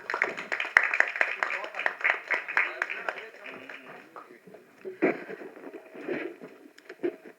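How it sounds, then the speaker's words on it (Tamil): An audience at a film's success meet claps to welcome a guest onstage. Scattered applause mixes with a voice speaking over a PA. "ஒரு கைத்தட்டலோட லெட்ஸ் வெல்கம் ஆதித்யா கதிர்"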